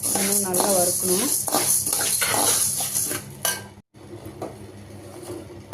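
Cashews are roasted and stirred in a metal pan for a sweet, a utensil scraping and clinking against the pan in a steady stirring rhythm, with someone talking over much of it and a brief cut near the end.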